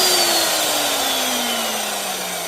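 An Eibenstock mixing drill with a faulty variable speed switch whines loudly and close, its motor pitch sliding steadily downward as it winds down over a couple of seconds.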